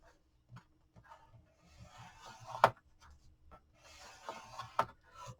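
Paper for a craft box is scored with a tool along a ruler, producing scattered light scratching strokes and a few sharp ticks, fairly close and quiet, with no talk.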